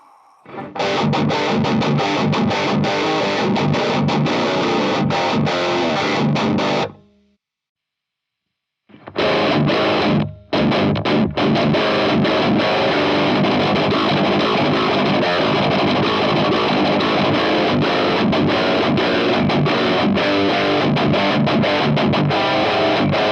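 A heavily distorted electric guitar through a Strymon Iridium amp and cab simulator plays chugging metal riffs, loud and saturated, stopping for a brief silence before resuming.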